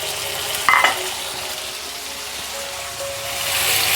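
Drained chicken pieces frying in a pan for Dragon Chicken give a steady, close broadband sizzle throughout, broken early by a brief metallic stirring clatter and swelling louder near the end, with no talking.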